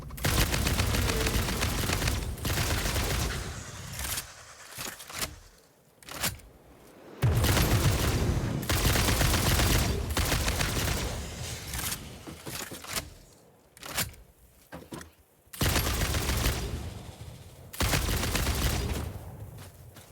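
Repeated bursts of gunfire from the video game Satisfactory, loud and close, coming in dense volleys with short gaps of quiet between them and no talking.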